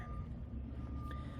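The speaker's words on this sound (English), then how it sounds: "That's the forklift moving boats around." A forklift's steady reversing beep sounds at a busy boat dealership, a thin continuous tone under a low rumbling engine background, moderately distant and faint.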